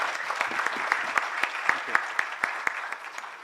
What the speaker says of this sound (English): I request you to kindly clap for all my panelists.